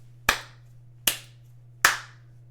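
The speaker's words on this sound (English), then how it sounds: "3 claps, no notes." Three sharp, evenly spaced hand claps, close and crisp, each ringing briefly in a quiet room over a low steady hum, with no voices.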